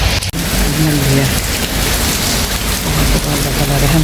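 Heavy rain falls in a dense, continuous hiss and patter across the surfaces, loud and close, with one sharp knock near the start and low voices faintly beneath the downpour.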